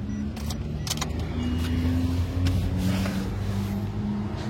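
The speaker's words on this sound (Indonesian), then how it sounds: "Kita nyalakan untuk mesinnya." Engine of a 2017 Toyota Rush TRD with manual transmission running steadily with a low, even hum, close and continuous, with light clicks and jingles over it and no talk.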